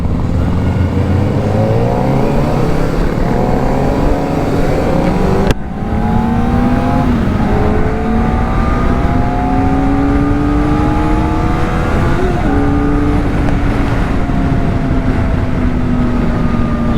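Kawasaki Ninja ZX-4R sport bike engine loud and close, revving up through rising, sweeping pitches, briefly cut off then climbing again in a long continuous high-revving run.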